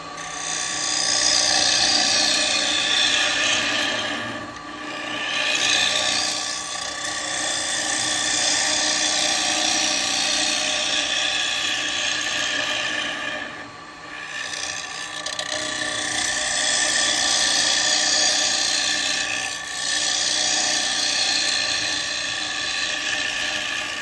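Woodturning lathe with a standard 9mm carbide tool cutting a spinning workpiece, a continuous loud whining hiss with gear-like mechanical tones, briefly dipping in a few spots as the cut lifts.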